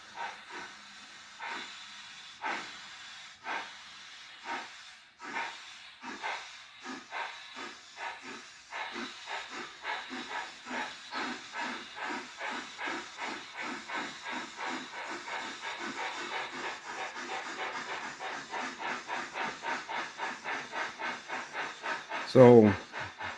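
Two model train locomotives, a Broadway Limited 2-8-0 leading a Proto 2000, both fitted with TCS WOW sound decoders, give off steady rhythmic steam chuffs. The chuffs start slow and spaced, then quicken into a fast, even beat with soft hiss, and a brief louder burst comes near the end.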